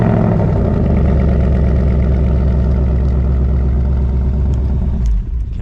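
A 2024 Ford Mustang GT V8 engine rumbles after a remote start, loud, close and deep. It holds a steady, throbbing idle for about five seconds, then dips briefly near the end.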